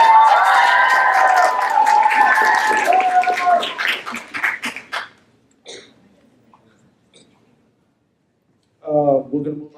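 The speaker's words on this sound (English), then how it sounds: "Wild applause one more time." An audience at a youth speech competition bursts into loud cheering, whoops and applause that fade out after a few seconds, leaving near silence broken by a short burst of voices at the end.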